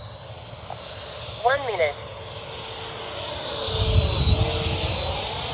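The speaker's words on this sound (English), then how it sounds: "What a sweet flying F-22." Freewing 90mm F-22 RC jet flying overhead with its landing gear coming down, a steady distant engine roar that swells louder near the end, under someone talking throughout.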